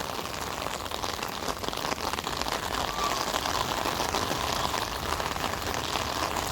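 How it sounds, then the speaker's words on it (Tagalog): Steady, dense downpour of heavy rain near the Pasig River in Manila, pattering on surfaces, a constant loud hiss throughout with no voices. "medyo lumakas ang ulan mga bayan"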